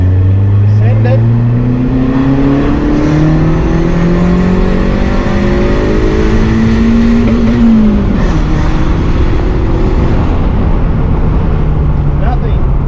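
A Honda D16 turbo car accelerates hard in second gear, the engine note climbing steadily, then a shift and another rising pull, loud and close from inside the cabin with road roar throughout.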